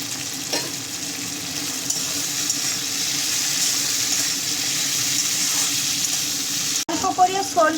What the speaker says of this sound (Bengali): এখন আমি ভেজে রাখা আলুটা দিয়ে দেবো।